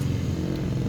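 Prepared supermoto motorcycle rated at 105 horsepower idling and revving with a steady, dense low engine drone, close by and continuous through the short moment, with no talk over it.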